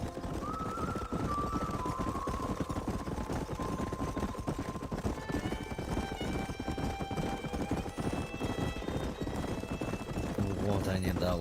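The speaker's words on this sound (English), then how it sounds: "There's the horses!" Horses in a Rockstar video game clip-clop steadily at a brisk pace, with a neigh early on and other game sounds over the hooves as people talk throughout.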